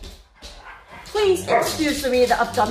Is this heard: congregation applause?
no